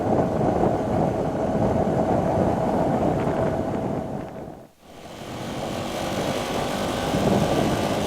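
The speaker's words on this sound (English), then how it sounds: "the wind noise I'm talking about on my helmet is just the wind blowing the outside of my helmet" Wind buffeting the outside of a motorcycle helmet while riding, a loud broad rushing roar that dips sharply for a moment midway and then builds back up.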